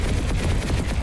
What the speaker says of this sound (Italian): Hai visto, Angelo, che si può anche con i mitra?